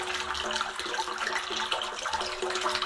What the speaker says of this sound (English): We will add another couple inches of water and stop.